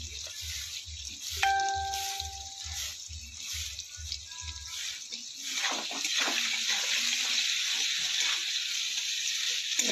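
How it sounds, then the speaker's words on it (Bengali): Onions frying in oil in a pan, a steady hissing sizzle that fills the clip, with brief tonal sounds and a low rhythmic thumping in the first half. "পেঁয়াজটা লাল লাল করে ভেজে নিই।"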